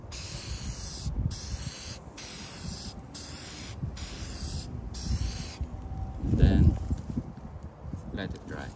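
A spray can lays a final sealing coat over restored car headlights, with repeated short hissing bursts separated by brief pauses, followed by a louder handling clatter near the end.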